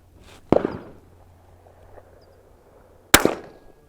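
A CZ 455 .22LR rifle fires on an outdoor shooting range: two sharp, loud cracks about two and a half seconds apart, each with a brief trailing echo over quiet background.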